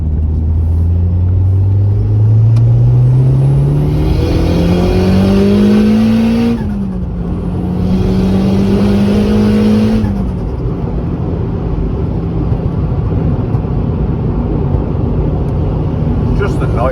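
A turbocharged Honda Civic EP3 engine revs hard twice, each sweep climbing steadily in pitch before dropping off, loud and close, then settles into a rough, throaty idle rumble.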